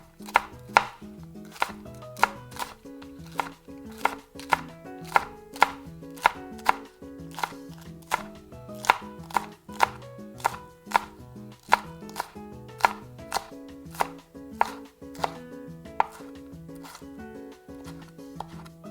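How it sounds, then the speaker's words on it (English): A knife chops green onions on a cutting board in quick, even strokes, a steady run of crisp close taps repeating for the whole stretch with no talking. "Chop some green onions."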